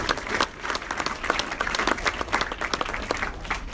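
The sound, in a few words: audience applause at a panel event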